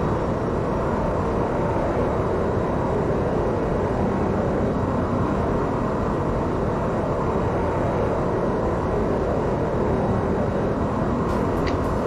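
Jet engines of a Tupolev TU-444 in the X-Plane 11 flight simulator give a loud, steady broadband roar that runs unbroken and close throughout, with no talking over it.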